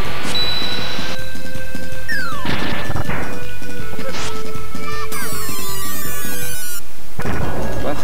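Flare Tornado spell attack in Tales of Phantasia, a loud run of crashing, whooshing magic blasts with sweeping tones and a shimmering high burst over chiptune-style game music, ending in a final impact.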